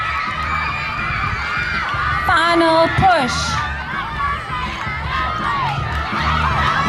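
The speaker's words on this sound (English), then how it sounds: "Let's cheer on the girls" Crowd of children and adults cheering grade 3 girls on at a school inter-house athletics race, a steady loud shouting mix with an announcer talking over it.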